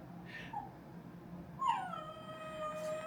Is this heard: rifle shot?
no